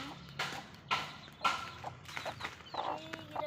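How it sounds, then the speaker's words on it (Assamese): Chicken chicks heard up close, a series of soft, short peeping and clucking calls in irregular bursts over quiet background. "এয়া আমাৰ কুকুৰা পোৱালি।"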